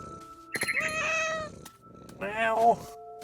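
Two drawn-out cat meows in the video game What Remains of Edith Finch, close and fairly loud, separated by a short pause, with a faint background tone running underneath.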